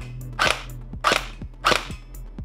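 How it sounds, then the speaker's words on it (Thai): A Tiangong G36C gel blaster fires three evenly spaced semi-automatic shots, each a sharp, close snap with a short mechanical clack, over a faint steady motor hum between shots. "เดี๋ยวไปลองยิงG36ของเทียงกงกันครับ"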